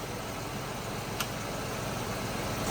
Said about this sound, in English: We are now going to slow the transmission down to a stop, and we'll upshift it manually.